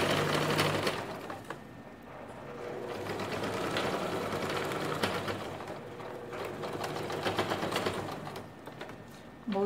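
A sewing machine stitches a seam on a child's cargo shorts pocket, a close rapid mechanical whirring that runs in bursts with brief slowdowns, alongside faint background noise.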